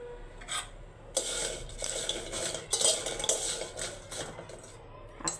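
Food being stirred and dry-roasted in a pan in a home kitchen, with a utensil scraping repeatedly across the metal in close, fairly loud bursts, one after another, and no talking.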